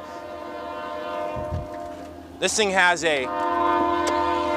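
A passing train blasts its horn in a loud, wavering burst over a steady rumble of rail cars, with someone talking briefly before it sounds.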